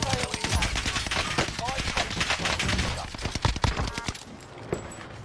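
Rapid gunfire from a battle-royale shooter with an LMG in play, dense bursts of shots hitting the player's character, loud and continuous with sharp cracks, under excited voice chat between teammates.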